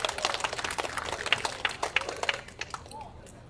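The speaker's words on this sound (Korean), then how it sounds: "연대 발언해 주신 난라동지께 힘찬 박수 부탁드립니다" A crowd at a construction workers' rally at Suwon Station's Rodeo Square applauds with brisk, sharp clapping that thins out and fades after about two and a half seconds, leaving quiet outdoor ambience.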